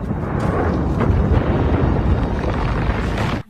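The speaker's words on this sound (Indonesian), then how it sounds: "Ledakan tersebut memicu terjadinya gempa." A deep, rumbling film explosion blast from Pokémon: Detective Pikachu that roars and sustains for a few seconds before cutting off abruptly, loud and close.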